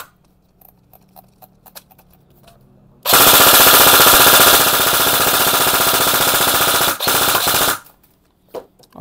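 Rapid full-auto fire from a G&G Wild Hog 9-inch airsoft electric rifle, a loud continuous mechanical burst lasting several seconds, preceded and followed by quieter clicks and handling.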